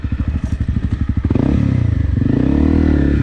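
Honda CRF 250 Rally motorcycle engine, close and loud, starting with a chugging low-rev putter that builds into a steady revving drone as the bike accelerates, with some clatter underneath.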